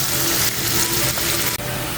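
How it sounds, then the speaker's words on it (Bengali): Finely chopped onions sizzle in a hot pan, a loud, close, continuous frying crackle over two seconds with no one speaking. "এখন পেঁয়াজটাকে ভালোভাবে ভেজে নিব।"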